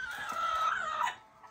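A chicken clucks and calls inside a home kitchen, a drawn-out fairly loud vocalization lasting about a second before tapering off, with low background noise.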